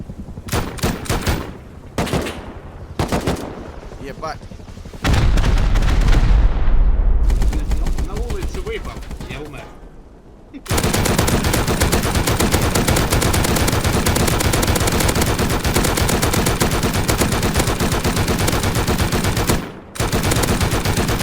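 Gunfire in the survival game Rust, with bursts of rapid automatic shots at the start, then a dense, sustained stretch of loud continuous firing and booms, with brief gaps.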